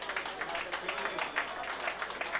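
Applause for apprentice chocolatiers after a chocolate-making demonstration, a thin steady patter of hand clapping from a modest audience, fairly faint and continuous throughout without voices over it.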